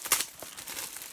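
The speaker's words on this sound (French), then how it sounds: "Si je le déballe et je vous montre l'intérieur." Packaging of a Blu-ray combo case being unwrapped, with brief close crinkling and rustling of plastic, one sharper crackle near the start then softer handling.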